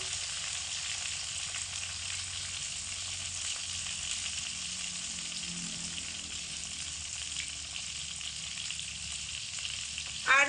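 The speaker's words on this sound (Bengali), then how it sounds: "টমেটো তেলের মধ্যে দিয়ে স্বাদ মতো নুন আর অল্প পরিমাণে হলুদ গুঁড়ো দিয়ে দেবো" Tomatoes frying in oil with salt and turmeric powder give a constant, soft, close sizzle with even hiss throughout and a brief clatter at the very end.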